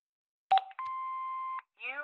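Electronic tones from an answering machine in the video game Broken Sword 5: a short blip, then a sustained steady beep about a second long, followed by the start of a synthesized voice.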